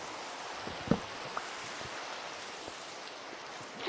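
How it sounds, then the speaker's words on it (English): Steady rain falls in the Minecraft video game, a soft even hiss with a few faint drop ticks, quiet and alone. "just sleep in the rain. My head's out of the rain."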